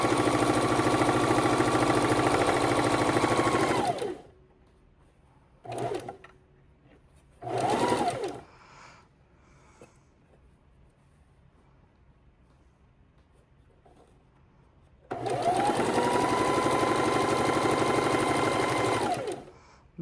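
A sewing machine stitches a log cabin quilt block in loud sustained whirring bursts, two long runs framing a quiet stretch with a few short stop-start spurts.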